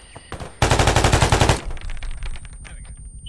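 Rapid burst of automatic gunfire in the tactical shooter game AusTac during a Centrelink raid, a loud, tightly spaced stream of shots lasting about a second, followed by quieter echoing tail and scattered noise.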